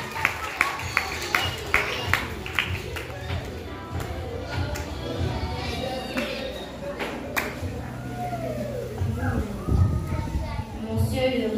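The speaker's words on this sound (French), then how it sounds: "que je vous demande d'applaudir chaudement" An audience at a ministerial inauguration ceremony claps in scattered, uneven bursts, with sharp individual hand claps over a murmur of chatter and children's voices in a large room.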